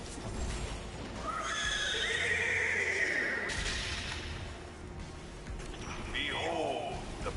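A horse whinnies loudly in the video game Destiny 2, a rising and falling neigh with hoof clip-clops, over a busy game soundscape of gunfire and effects, and a second shorter neigh near the end.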